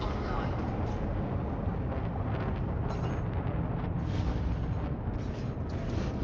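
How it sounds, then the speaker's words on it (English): Missiles exploding in Elite Dangerous, a continuous roaring blast of deep rumbling explosions and thrust noise, loud and close, with a voice talking over it. "Oh, the missiles."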